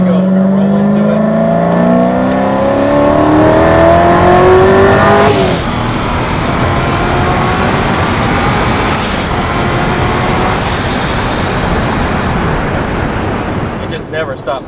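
A 1000 hp Hennessey Corvette Z06 with a centrifugal supercharger accelerates hard, its loud, rising engine note filling the cabin before a gear change and continued strong pull with steady road and wind roar.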